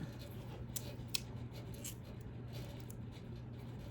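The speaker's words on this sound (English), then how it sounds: "you're gonna cut some tape" Scissors snip through a strip of tape over cardboard, a few quick, crisp cuts spaced unevenly against quiet, close-up handling noise.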